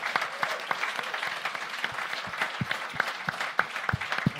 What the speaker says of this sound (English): So please give a round of applause for Mr.